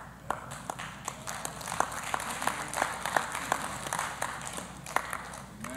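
Soft, scattered applause from women in a church congregation, a quiet patter of light claps spread over several seconds at a distance.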